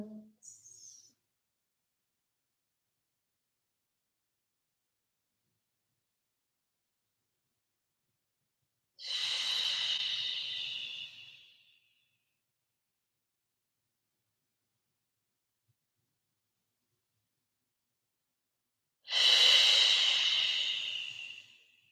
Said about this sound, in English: to breathe the lateral left side. Five long breaths.